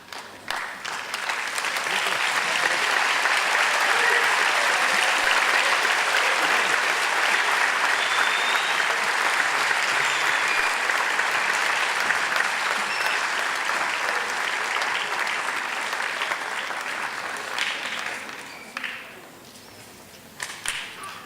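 Loud, sustained applause from an audience at a science fair awards ceremony, a dense wash of clapping that runs steadily for about eighteen seconds before thinning out, with a few last claps trailing at the end.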